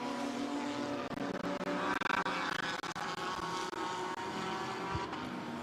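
GT4 race cars accelerate around the Barcelona circuit in a European Series race, a steady, fairly distant engine roar with passing swells and occasional sharp transients.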